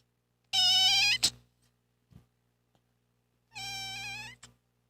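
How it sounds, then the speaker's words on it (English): A young male kitten gives two drawn-out, loud meows close by, separated by a few seconds of near silence with faint small knocks, and no voices. "That's my kitten."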